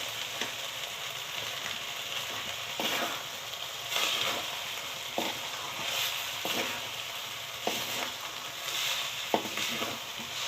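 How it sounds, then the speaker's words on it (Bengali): Cane jaggery being stirred into Kanika prasad in a hot pan, a soft steady sizzle with periodic scraping strokes of the spoon every second or two, close and quiet. "গুড় দিচ্ছি। মিশিয়ে দিচ্ছি ভালো করে।"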